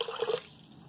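Water pours into an Instant Pot for jasmine rice, a short close splashing trickle that stops abruptly partway through, leaving quiet room tone.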